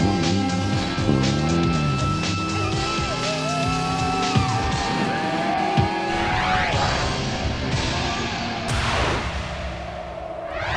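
Cartoon car racing flat out through a busy animated scene, with engine whine, rising and falling tire squeals and a skid sweep near the end, all loud and continuous over music and effects.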